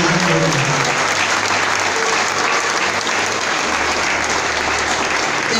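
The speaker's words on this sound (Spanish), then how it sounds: "Da un aplauso al Señor" A church congregation at a youth congress claps in loud, continuous applause for the Lord, a dense even wash of hands with a low hum underneath, lasting throughout.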